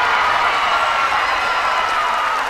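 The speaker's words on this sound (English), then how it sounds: "And this crowd, I think this is the loudest I've heard this crowd in a while." A college softball crowd cheers from metal bleachers at an LSU versus Louisiana game, a loud, sustained roar of cheering and clapping that stays steady throughout.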